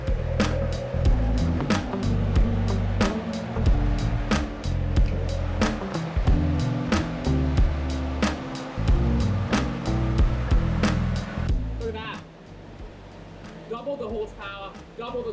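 Turbocharged Toyota Hilux LN106 engine revving hard on a dyno, a loud sustained mechanical roar with repeated sharp pops and bursts, easing off near the end as a voice speaks briefly.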